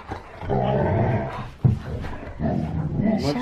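A husky growls and grumbles during rough play, a sustained rumbling snarl broken by a short sharp yap, then more throaty growling close up, with a little talk in the background.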